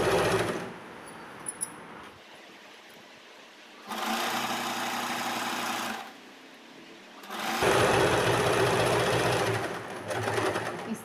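A sewing machine stitches a petticoat hem in three separate bursts of steady motor whirring, close and fairly loud, with quiet pauses between the runs.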